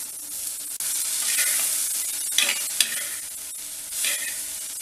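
A vegetable mixture sizzles steadily in a clay pot while a spoon stirs and scrapes it in a few distinct bursts, close and moderately loud, with no talking.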